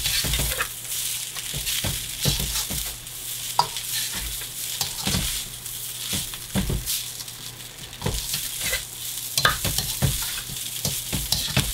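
Leftover fried rice sizzles in a hot wok under continuous stirring, with a steady frying hiss punctuated by the sharp, irregular scrapes and clanks of a spatula against the metal.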